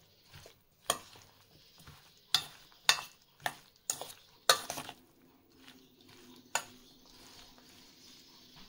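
Green chilli pickle being mixed with cooled mustard oil, a spoon knocking sharply against the bowl in about ten distinct clacks over a soft scraping, stirring background, with no talking.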